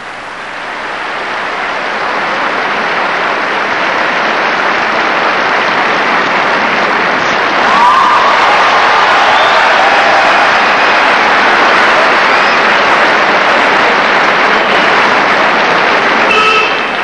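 A large arena crowd cheers figure skaters Katia and Sergei during their skating program, a loud, steady roar of many voices that holds for the whole stretch without a break.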